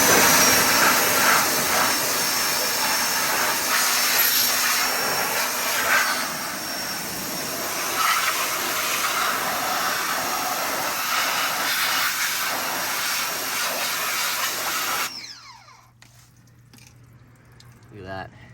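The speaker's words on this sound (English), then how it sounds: "Let's grab the pressure washer. You'll see it's just gonna rinse right away." A pressure washer rinses a 2016 Polaris Sportsman 850 Highlifter ATV with a steady loud hissing spray that runs on for about fifteen seconds, then cuts off and leaves quiet dripping.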